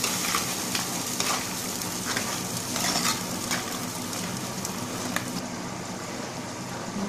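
Crab curry sizzling and frying in a pan as fried onions are stirred in, a steady close hiss with soft scraping strokes of the stirring spoon throughout, no voices.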